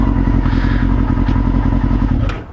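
Motorcycle idling loudly up close with a steady throbbing engine beat and faint mechanical clatter as the rider works the gearbox toward neutral, the rumble dropping off at the end.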